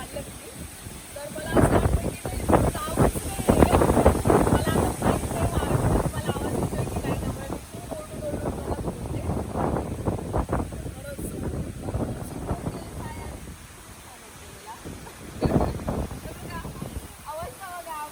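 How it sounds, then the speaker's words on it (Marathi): Strong wind gusting across a hillside near Khopoli, buffeting the microphone with loud rushing bursts while people talk close by. "एवढा जोरात वारा सुटलाय ना"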